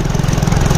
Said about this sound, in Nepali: मेरो बाइक चाहिँ त्यति पिकअप मार्दैन